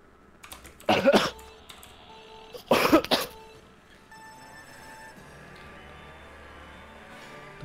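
A person coughs and clears their throat into a close microphone during a Mario Kart 8 Deluxe session. Two harsh bursts come about two seconds apart, then faint room noise and light clicking follow.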